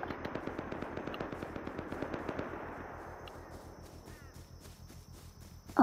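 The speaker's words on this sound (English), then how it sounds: "I hear gunshots." A rapid string of gunshots fires in the video game Rust, a fast repeating volley that then fades into quieter, sparser shots, ending with one loud burst.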